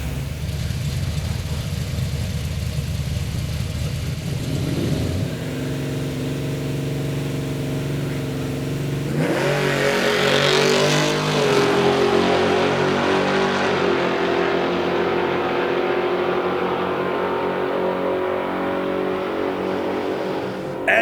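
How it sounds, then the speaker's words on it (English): Classic Australian muscle cars at a grassroots drag race idle with a loud, rumbling tone, then roar as they rev hard and launch, the engine noise staying heavy and close for the rest of the run. "Two beautiful cars here, classic Australian muscle cars, and this is grassroots racing."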